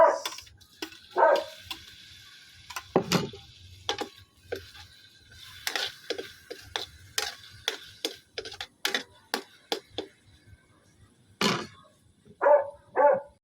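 A dog barks in scattered short yips and barks at moderate distance in a home kitchen, mixed with sharp clicks and taps from cooking.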